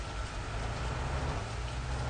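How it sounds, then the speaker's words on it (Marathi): Rain falling, a dense, even hiss of drops that holds steady and fairly loud for the whole brief moment, with no talking. "पाऊस आला"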